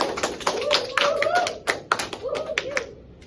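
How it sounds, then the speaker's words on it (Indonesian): A small class claps for students in a classroom, a few hands tapping in quick irregular bursts, with a voice speaking over the clapping. "Tepuk tangan untuk kalian semua."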